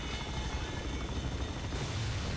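A helicopter in the video game Bulletstorm makes a steady, loud rotor roar, a dense unbroken drone filling the whole moment with faint rumbling beneath.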